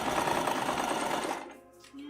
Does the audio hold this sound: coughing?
no